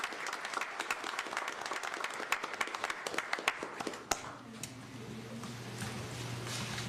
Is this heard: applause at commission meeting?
yes